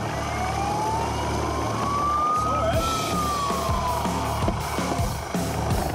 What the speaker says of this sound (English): The Westpac rescue chopper sounds a warning siren.